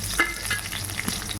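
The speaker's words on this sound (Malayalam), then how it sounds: "കറിവേപ്പില തന്നെ ഇളക്കി കൊടുക്കാം." Curry leaves frying in a pan of hot oil, a close, steady sizzle with a few soft stirring scrapes, brief and without voices.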